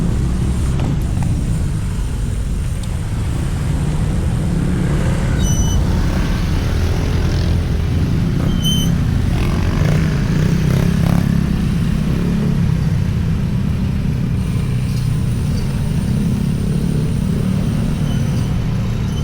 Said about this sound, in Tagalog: So traffic.